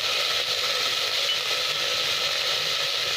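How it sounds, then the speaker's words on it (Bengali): Carrots, peas, beans and soya chunks fry in a pan, giving a loud, continuous close-up sizzle and hiss with no pauses and no talking. "তো সব কটা সবজি খুব ভালো করে একটু ভেজে নেব"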